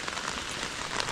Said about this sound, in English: Rain's going pretty heavy still though